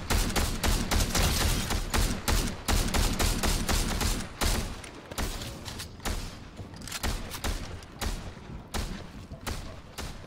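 Heavy automatic gunfire in a shooter video game, dense rapid bursts with booming impacts, loud and close for the first four seconds, then continuing more sparsely and a little softer, no talking.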